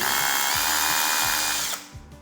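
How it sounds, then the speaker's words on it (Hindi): An INGCO power drill running in hammer drill mode, a loud, steady whine with a rapid rattling hammer pulse underneath that winds down near the end. "तीसरा जो मोड आता है वो आता है हैमर विद ड्रिल"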